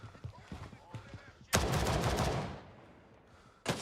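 Gunfire in the shooter Gray Zone Warfare: a few sparse shots, then a sudden loud burst of rapid automatic fire that fades away, and another sharp shot at the very end; a voice is faintly heard beforehand.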